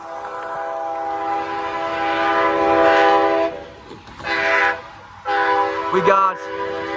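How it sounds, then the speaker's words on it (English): A K5L air horn on a freight locomotive blares near and loud at a Lake Avenue crossing in Blasdell, New York, sounding one long chord, then two shorter blasts, with a brief voice over the end. "It's a nice K5L horn."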